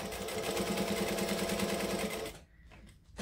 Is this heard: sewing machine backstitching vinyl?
yes